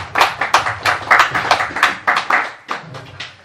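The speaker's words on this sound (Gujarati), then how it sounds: "મારી આ સ્પીચ પૂરી થઈ ને એટલે તરત જ તાળીઓના ગડગડાટ થઈ ગયા" Audience applause right after a Gujarati speech at a gathering: dense, steady hand-clapping from a crowd, loud and close, fading slightly near the end.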